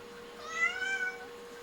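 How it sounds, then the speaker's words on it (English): A house cat lets out one long, loud, drawn-out meow that rises and then falls, heard alone against a quiet indoor background with a faint steady hum. "Wait, y'all hear that? That's my cat."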